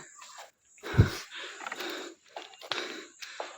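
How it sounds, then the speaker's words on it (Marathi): Heavy, breathy panting from a hiker resting after a steep climb up stone steps near Lonavala: several ragged gasping breaths, close and fairly loud, with brief pauses between them and no talk. "हा एवढा मोठा खडा चढ चढून एवढी धाप भरते"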